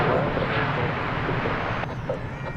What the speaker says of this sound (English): This, I believe, is the Lufthansa flight from Frankfurt arriving